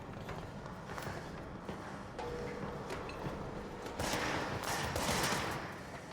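Rapid gunfire crackles through the video game Control, a dense fusillade of shots layered over game noise, growing louder and busier toward the end.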